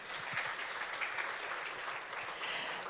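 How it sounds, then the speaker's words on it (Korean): Sustained audience applause at the close of a conference session at an international environmental forum in Jeju, a dense, steady wash of clapping from a large crowd that holds evenly throughout. "여러분 다시 한번 큰 박수 부탁드립니다"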